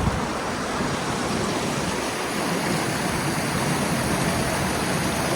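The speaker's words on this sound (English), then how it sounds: "Beautiful view of the Caribou Valley stream," The Caribou Valley stream, a good-sized river near Stratton on the Appalachian Trail, rushes steadily below, a constant even wash of flowing water with no voices.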